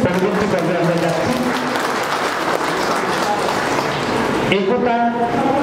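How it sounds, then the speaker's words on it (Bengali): Applause from the audience at a memorial gathering in Balurghat, dense clapping that fills most of the stretch, with a speaking voice returning at the end. "ওদের সকলের জন্য একটু জোরে হাততালি হোক।"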